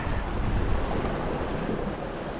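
Strong wind buffets the microphone while waves surge and wash against a coastal rock wall, a continuous loud roar with no clear breaks.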